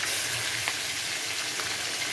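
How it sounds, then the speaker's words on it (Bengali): Rohu fish roe frying in hot oil in a pan, giving a soft, continuous crackling sizzle with faint steam hiss throughout. "মাছের ডিমগুলোও সাইড দিয়ে দিয়ে ডিমটাও ভেজে নেব।"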